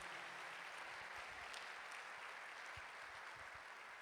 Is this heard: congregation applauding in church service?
yes